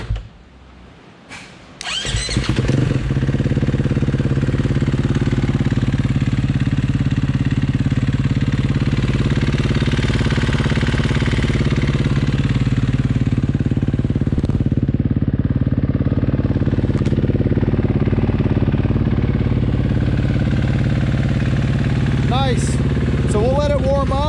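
A KTM 450 SMR supermoto single-cylinder engine, freshly built with a custom intake, cranks briefly on a low battery, then catches and runs steadily at a loud, close idle with slight revs, a voice briefly audible near the end.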